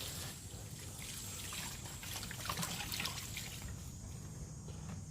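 Vinegar poured over a 1972 Chevy Monte Carlo body for rust removal, a faint, steady trickle and splash of liquid running for several seconds without talk.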